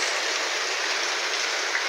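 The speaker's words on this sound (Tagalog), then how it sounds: "Tuloy-tuloy ang malakas na ulan." Heavy rain falls without pause during a flood, a dense, steady hiss of drops that stays loud and even throughout.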